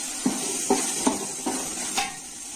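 Finely chopped tomatoes sautéing in a pan for chicken biryani: a steady sizzle with five evenly spaced stirring scrapes and knocks from a utensil, and nobody speaking.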